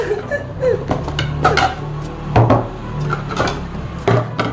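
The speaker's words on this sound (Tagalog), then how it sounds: "Eto na yung mga gagamitin natin pinggan!" Plates and dishes are handled while preparing a DIY cake, with several sharp clinks and clatters at irregular intervals over light background noise.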